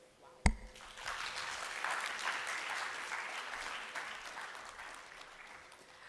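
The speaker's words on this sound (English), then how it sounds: "why don't we give her another round of applause?" An audience at an annual summit breaks into applause after a sharp knock, the clapping swelling quickly, staying loud and dense, then gradually thinning toward the end.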